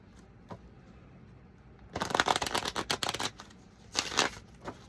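A deck of reading cards being shuffled, a quick flurry of crisp riffling snaps at close range after a quiet stretch, followed by a shorter second burst.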